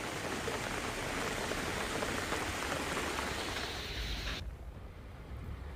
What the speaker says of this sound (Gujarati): ધોધમાર વરસાદ પડ્યો